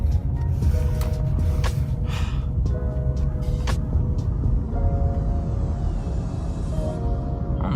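A Nissan 300ZX under rebuild drives along, its engine and road noise a steady low rumble with a faint rising whine and occasional short clicks, with no one speaking.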